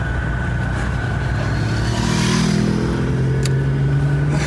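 A car engine strains at full throttle, a loud continuous drone with rising pitch as it accelerates, close and alone without talk.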